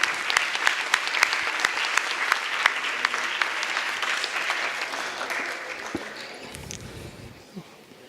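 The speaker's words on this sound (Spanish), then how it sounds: "Les pido, por favor, un fuerte aplauso para el doctor Adolfo Guzmán Arenas." Steady audience applause for a conference speaker at an artificial intelligence symposium, with distinct individual claps standing out, gradually tapering off over about seven seconds until a few handling noises remain.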